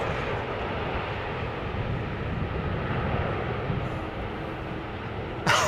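Airliner landing at Schiphol with thrust reversers deployed, a broad, sustained roar of reverse thrust heard at a distance, fairly even in level, with a brief sharp noise at the very end.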